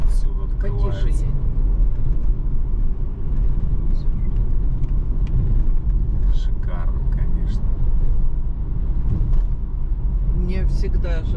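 Car driving through Vladivostok, with a steady low engine and road rumble continuing throughout, loud and close, while people talk over it.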